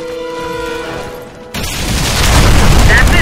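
A bomb blast from the video game Warface sets off at a checkpoint: after a steady tonal hum, a sudden loud explosion bursts in and rolls on as a heavy, rumbling roar that builds toward the end.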